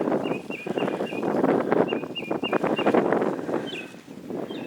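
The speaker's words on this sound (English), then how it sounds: "Of course, the wind's blowing." Wind blows outdoors on a homestead, a loud, gusty rumble buffeting the microphone, with chirping birds faintly audible over it.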